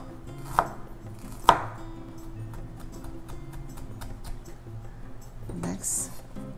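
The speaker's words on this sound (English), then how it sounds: "We're going to mince a little bit of ginger" A knife mincing ginger on a cutting board, giving two sharp, close chops near the start and a few softer taps later over a low kitchen hum.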